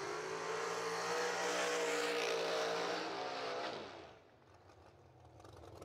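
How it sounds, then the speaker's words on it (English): A Pro Stock drag car does a tire burnout to break in its tires at a drag strip, a loud roaring engine with screeching tire noise that cuts off abruptly, leaving a quieter idle and distant crowd murmur. "Kyle breaking in tires for the Pro Stock team while he's out here this weekend"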